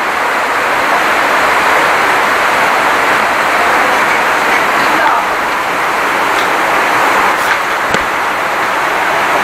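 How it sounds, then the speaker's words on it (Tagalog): Heavy rain pours without a break during a power outage, a loud dense wash of noise that fills the whole stretch, with a couple of brief sharp knocks near the end. "Lakas ng ulan na nag-brown out. Walang tigil ang ulan simula pa kagabi."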